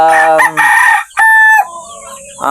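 A young rooster, a tethered stag, crows loudly and close by, in a few strained, broken calls with short gaps between them.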